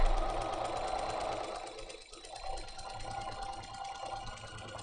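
A sewing machine stitches quilt pieces together for a Pocket Full of Posies block, running in a steady, continuous mechanical whir close by that briefly dips and then resumes.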